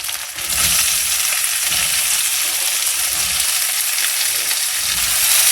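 Chopped green chilies and mixed vegetables for vegetable pulao sizzle and fry steadily in a hot pan, a loud continuous hiss with occasional stirring scrapes and no talking.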